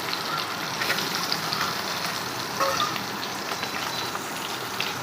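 Mango pieces frying in hot oil with salt and turmeric for a sweet, sour and spicy chutney, a steady close sizzle with crackling pops and occasional stirring, continuous and even throughout.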